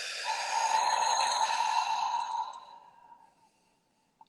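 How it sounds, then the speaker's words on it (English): One long, slow breath out through the mouth, close and soft, fading away over a few seconds into quiet during a guided breathing exercise. "exhaling out the mouth"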